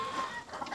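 Chickens on a chicken farm clucking softly, brief overlapping hen calls against a low barn background, no speech.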